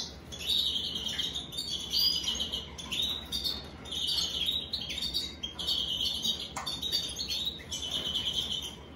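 A female greenfinch and a male African citril, a hybrid breeding pair, chirp and twitter continuously in bursts of bright, close calls, with no talk.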